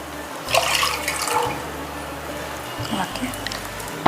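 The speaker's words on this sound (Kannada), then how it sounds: "ಅದೇ ಕಪ್ಪಲ್ಲಿ ನಾನು ನಾಲ್ಕು ಗ್ಲಾಸ್ ನೀರು ತಗೊತಾ ಇದ್ದೀನಿ" Water pours and splashes in short bursts into a cooking pot, with a low hum underneath and occasional clinks.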